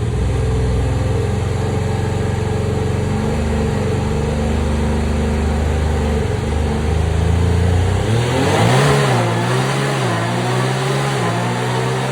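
A car engine on a dyno roars loudly and continuously, its pitch climbing steadily as it revs up, then dropping briefly before rising again near the end.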